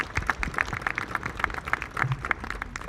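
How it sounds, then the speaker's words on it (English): Audience applause at a culmination ceremony: a smallish crowd clapping in a steady, moderately loud patter of distinct claps, fairly close, with no talk over it. "So a round of applause for you."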